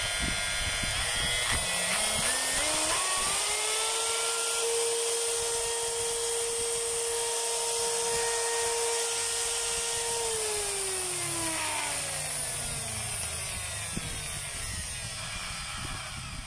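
Power tool motor with a variable-speed trigger, tested after armature, field coil and carbon brush work, whines steadily, its pitch rising early on, holding high for several seconds, then sliding lower as it slows, loud and close with no talk.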